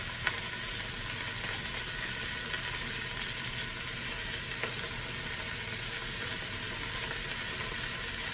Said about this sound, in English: Let that one sear for a few more minutes.